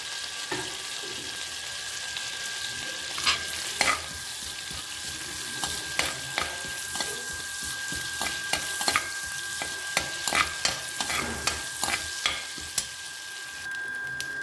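Cumin seeds crackle and sizzle in hot oil while a spoon scrapes and stirs them around the pan, with irregular sharp clicks and taps over a steady frying hiss; no talking.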